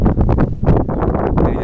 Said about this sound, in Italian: qui è freschino, che tira un po' di vento, ma abbastanza mite.